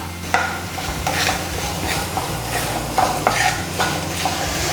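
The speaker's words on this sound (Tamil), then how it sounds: "அடுத்து வந்து இந்த பவுடரை வந்து நம்ம சேர்த்துக்கலாம்" Spice powder is stirred into small garlic cloves frying in a pan, giving loud rhythmic scraping strokes over a steady sizzle, heard up close with no talk.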